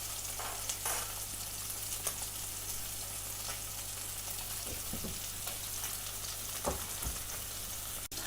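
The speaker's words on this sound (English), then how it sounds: "As you can see, it's making its own fat to cook in." Duck pieces frying in their own rendered fat, for a low-syn hoisin duck fakeaway, give a steady close sizzle with occasional stirring scrapes and pops, with no talking.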